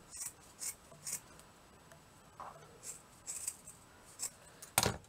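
Scissors snip through fine fibres on a miniature scrubbing brush, a series of small, crisp, close cuts at irregular intervals, faint and quiet between them, with one sharper snip near the end.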